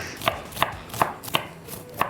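A knife chops onions rhythmically on a board, six crisp evenly spaced strikes at a brisk steady pace, close and clear with no talking.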